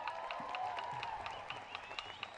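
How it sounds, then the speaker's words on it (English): Light applause from a small outdoor crowd at a protest rally in Australia, scattered claps fairly faint and distant, with a voice and background murmur underneath. "Round of applause for Stephen."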